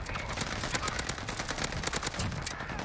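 Rapid bursts of automatic gunfire crackle in a Call of Duty Warzone match, dense overlapping shots from several weapons sounding near and loud, with faint voices underneath.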